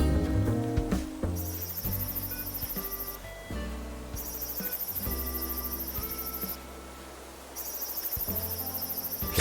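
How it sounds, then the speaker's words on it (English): A brown cicada buzzes in Animal Crossing: New Horizons, a shrill, pulsing drone that comes in long bursts with short pauses, layered over soft, plinking game music. "Another new cicada. A brown cicada."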